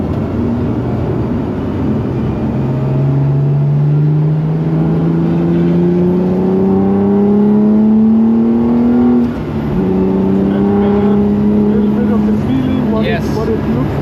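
The HWA EVO prototype car drives on the Nürburgring, its engine loud and close. Revs climb steadily, drop briefly at a gear change, then build again in one continuous, screaming pull.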